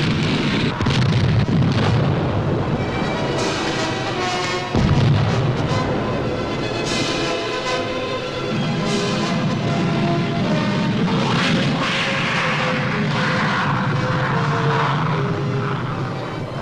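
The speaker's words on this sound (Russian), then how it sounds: "Выведение из строя аэродрома «Синих» завершено ударом 60-го авиационного полка" Fighter-bomber air strike on an airfield during the 1972 Warsaw Pact exercise SHIELD: roaring jet aircraft pass loudly while sharp explosions and booms burst through, dense and continuous.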